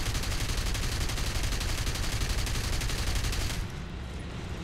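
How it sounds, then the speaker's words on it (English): An attack plane's guns fire on an artillery position in a flight-sim combat game, a dense, loud, continuous rattling burst that cuts off near the end, leaving a quieter engine drone, with no voices. "And open fire."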